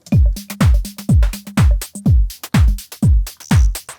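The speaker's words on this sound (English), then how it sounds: "the drum loop without this loop here, it sounds like this" A punchy electronic house drum loop with a heavy kick on every beat, crisp hi-hats and a steady four-on-the-floor rhythm, loud and alone.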